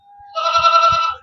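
A female goat at a goat show lets out a single loud, wavering bleat lasting about a second, close and clear over a quiet background with faint low thumps.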